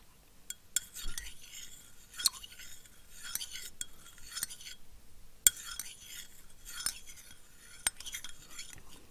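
A spoon stirs in a cafe cup, with soft repeated clinks and taps against the sides spaced roughly a second apart, close and fairly quiet, with no talking.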